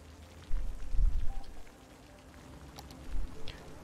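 Rain falling across a city in Cities: Skylines, a steady broadband patter with soft low rumbling swells, no voices.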